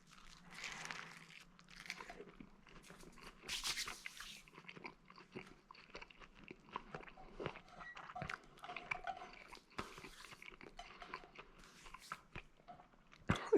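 Biting and chewing on crunchy crust of a pepperoni pizza made from 48-hour dough, faint close crunches and squishy chewing in an irregular rhythm, quiet throughout.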